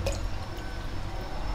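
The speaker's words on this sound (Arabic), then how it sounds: "وبنضيف ليها كوبايه خل الطعام الابيض" A cup of white vinegar being poured into warm water, a soft steady liquid pour with light dripping, faint and close.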